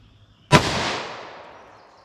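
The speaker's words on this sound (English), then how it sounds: "Now our 40 Smith & Wesson 135 grain. This is rated at 1450. So let's see what I get here with my 5-inch barrel M&P." A single sharp gunshot from a .40 Smith & Wesson 135-grain load fired through a 5-inch-barrel M&P pistol at an outdoor range, an abrupt loud crack followed by a rumbling decay that fades over about a second and a half.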